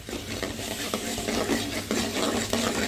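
Carrot pieces fry in a light tempering in a pan, giving a steady close sizzle with scraping stirring sounds running through it.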